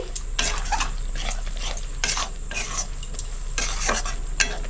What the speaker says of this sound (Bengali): মশলাটা দিয়ে আমি ভালো করে মিক্স করে নিচ্ছি